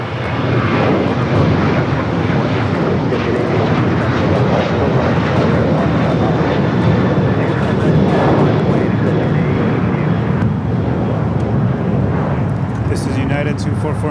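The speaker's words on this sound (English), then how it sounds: "This is United 2449 going to Las Vegas on a 9-year-old Boeing 737-900" A nine-year-old United Boeing 737-900 airliner at Los Angeles airport, its steady loud jet engine roar filling the whole stretch without a break while voices talk over it.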